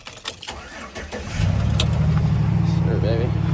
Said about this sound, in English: All right, we're gonna cut the truck on.